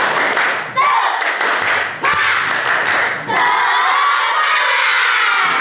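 A classroom of students doing a rhythmic spirit clap, loud group shouting and chanting with clustered claps in bursts, close and continuous throughout.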